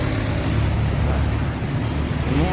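A motorbike passes on a street in Syria, a steady low engine rumble with road and wind noise that holds close and fairly loud for the whole short stretch.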